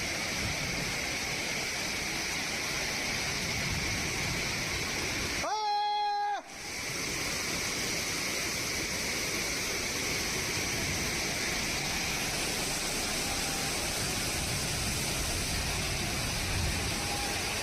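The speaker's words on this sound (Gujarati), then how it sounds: "આ પાણી પાછું વહી ગયું હજી જો" A constant, roaring rush of fast-flowing water runs throughout, broken once by a brief high-pitched tonal sound near the middle.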